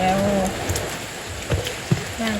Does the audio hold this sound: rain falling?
yes